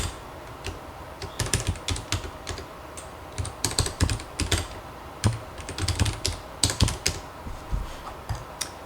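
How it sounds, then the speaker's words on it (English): Slow typing on a computer keyboard, with irregular clusters of sharp clicks and pauses between bursts, recorded close and with no voices. "so you're gonna bear with me for my slow typing"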